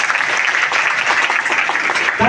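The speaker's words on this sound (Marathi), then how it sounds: "त्यासाठी सरांसाठी जोरदार टाळ्या वाजवा." Students and guests at a school honouring ceremony applaud, a dense, sustained burst of many clapping hands filling the room at full volume.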